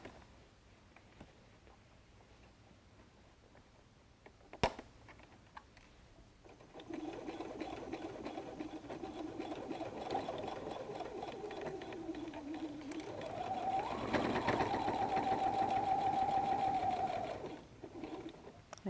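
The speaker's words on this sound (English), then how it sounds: "And I'm going to sew the seam" A close sewing machine runs steadily for about ten seconds, stitching a seam on a messenger bag at a 2.5 stitch length, after a quiet start and a single sharp click.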